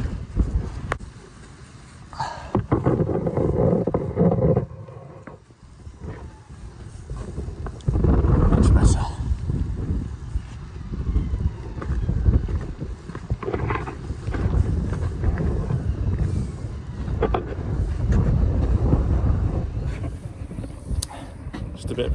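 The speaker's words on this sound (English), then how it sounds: "Fight the wind." Strong wind buffets the microphone in gusts during a hail storm on a building site where old render is being hacked off, roaring loud and steady with surging peaks, and voices are heard beneath it.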